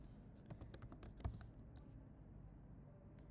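Keys clatter on a computer keyboard as a plugin name is typed, a quick run of close, crisp clicks over a steady room hum, fading into background noise with no talk.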